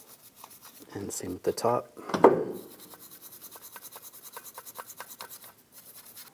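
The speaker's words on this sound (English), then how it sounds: "take a small wire brush and just clean the areas where the brake pads are going to contact the caliper" A small wire brush scrubs the brake pad contact areas of a brake caliper on a 2015-2022 Chevrolet Colorado, with a few bursts of brisk scratching followed by quieter rhythmic strokes, as someone speaks briefly.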